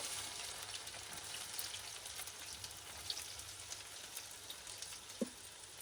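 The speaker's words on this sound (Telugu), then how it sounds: "ఆయిల్ వేడెక్కిందండి ఇప్పుడు ఇందులోకి మనము ఆనియన్స్ వేసేసుకుందాము" Onions frying in hot oil for a mutton fry make a soft, steady sizzle with faint scattered crackles and an occasional tiny tap, heard quietly with no talking.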